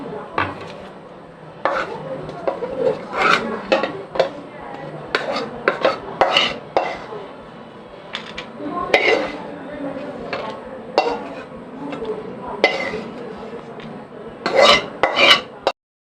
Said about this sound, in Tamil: இப்போ இந்த முந்திரி பருப்பை ஒரு பிளேட்டில் தனியாக எடுத்து வச்சுக்கோம்.